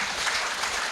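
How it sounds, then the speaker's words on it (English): An audience at a regional sports awards ceremony gives a brief round of applause for the award contenders, a dense, even wash of clapping with no voices over it. "A round of applause for all of them."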